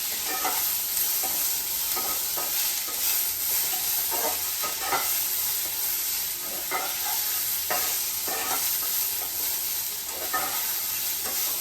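Onion sautéing in hot oil in a kadhai for paneer bhaji, a steady loud sizzle with repeated scraping stirs throughout, no voices.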